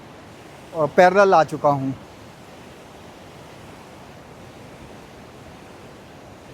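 The Alaknanda river flows near Mana village with a steady, soft rushing hiss that continues throughout, briefly overlaid by someone speaking near the start.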